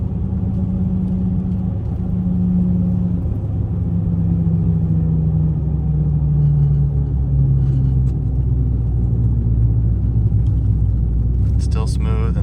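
Steady low road rumble and tire drone from inside a moving truck on Boggers mud-terrain tires, continuous and fairly loud, with a faint hum that slowly drops in pitch.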